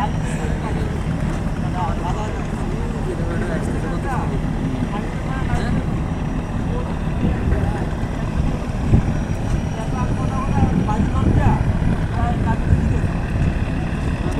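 Passenger launch boats at Sadarghat river terminal, a continuous loud engine drone and rumble with busy crowd noise and people talking throughout.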